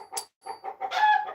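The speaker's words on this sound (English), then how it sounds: "forgive the chickens in the background there" Agitated backyard chickens cackling in several short, uneven bursts that build into a louder, sustained squawk near the end, heard alone without voices.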